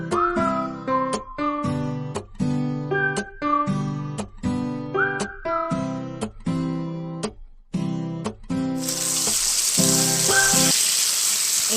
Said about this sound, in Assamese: মাংস চিকেন এতিয়া ঢালি দিয়া হ'ব কেৰাহীত